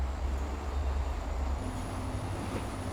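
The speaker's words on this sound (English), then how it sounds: "Listen to those squealing noises." A train in the Transport Fever game grinds slowly along a spiral viaduct, a low rumble of rolling wagons joined midway by a thin, sustained metallic wheel squeal.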